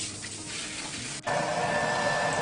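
A hair dryer drying freshly shampooed hair gives a steady, loud blowing whoosh that fills the clip, briefly dipping before resuming with a stronger, higher whine.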